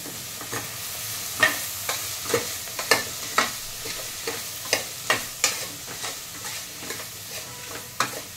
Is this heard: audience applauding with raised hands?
no